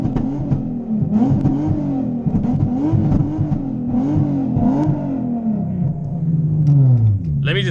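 A straight-piped Nissan 350Z/370Z with its engine running, the exhaust revving in repeated swells over a loud steady rumble, close up, with a final climbing rev near the end.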